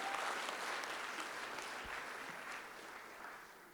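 Guests at a New Year's Day wedding reception give the couple a warm round of applause, steady, fairly distant clapping that slowly fades toward the end.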